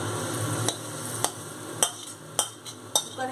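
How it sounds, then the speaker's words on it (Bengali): Rice and lentils being tempered in a pressure cooker: a steady low sizzle runs throughout, punctuated by about six sharp metallic clicks and stirring knocks at a loose, irregular rhythm, close and moderately loud with no talking. "দেখুন এর মধ্যে আমি সাঁতলে দিচ্ছি,"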